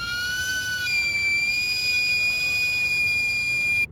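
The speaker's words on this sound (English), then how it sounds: "there's this train whistle" A shrill, sustained train whistle in Puerto Vallarta, Mexico, holds a steady high tone, loud and continuous, over a background rumble until it cuts off.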